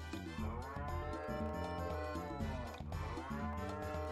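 A cow moos in the farming video game Harvest Moon: Sunshine Islands, a long, loud, drawn-out low moo with a second moo following, over steady game music.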